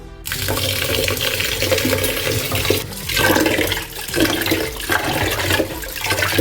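Rice is washed in water, a loud continuous splashing and sloshing with swirling surges, close up and without speech.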